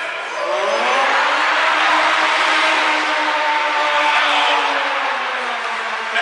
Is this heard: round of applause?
no